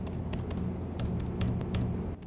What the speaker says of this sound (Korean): 키감의 경우 이제 키 하나씩만 눌렀을 때는